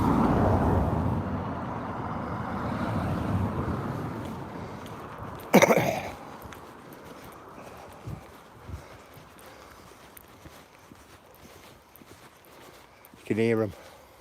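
Cars, including a Rolls-Royce, pass on a hilly country road beside a walker, a broad rumble that swells and then fades away, followed by quieter road noise and a couple of sharp bangs, with a person talking throughout.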